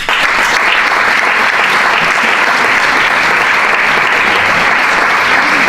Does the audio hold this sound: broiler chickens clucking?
no